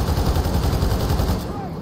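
Rapid gunfire from a first-person shooter game, Metro Exodus, a dense continuous burst of loud automatic shots close up that fills the whole moment and tails off slightly at the end.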